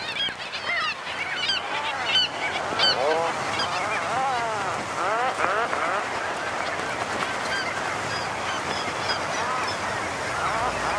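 A dense seabird colony of auks at a bird bazaar on snowy nesting slopes, with many loud overlapping honking, croaking calls rising and falling continuously, close and crowded.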